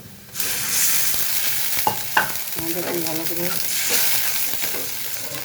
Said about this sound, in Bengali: পেঁয়াজটা ভাজা ভাজা হয়ে যাচ্ছে